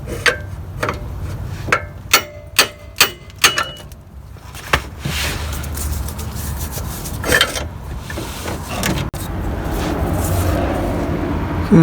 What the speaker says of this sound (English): I'm hitting that with the pipe and the bar that I just showed you.